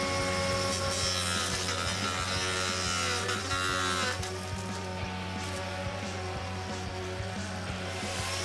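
DeWALT DCM571 FlexVolt cordless trimmer fitted with a blade cutting grass, a steady high-pitched motor whine with scraping, rasping contact noise, close and continuous.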